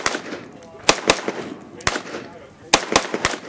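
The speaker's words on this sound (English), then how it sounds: "give it two quick shots." AR rifle fitted with a TAC-CON trigger fired at a shooting range: sharp, loud reports arriving in quick pairs, with faint background sounds between the shots.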